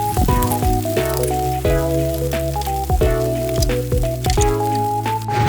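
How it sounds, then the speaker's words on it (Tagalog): Eggplant omelette (tortang talong) fries in hot oil, a loud, close, continuous sizzle with crackling pops throughout. A steady tonal melody plays along with it. "nagpainit lang din ako sin mantika, tapos sinalang ko na ang torta na talong"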